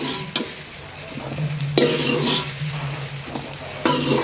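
Okra sautéing in a pan for a fish curry, with a steady oily sizzle and several sharp scraping stirs against the metal, close and continuous with no talking.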